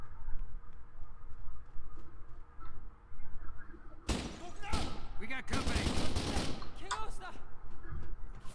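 Video game gunfire in Kane & Lynch: Dead Men, a dense burst of loud cracking shots and rapid volleys that breaks out about halfway through, following a quieter stretch of low background rumble.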